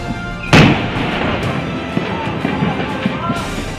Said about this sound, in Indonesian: Gudang Peluru yang di samping kampung Korong Pinang meledak.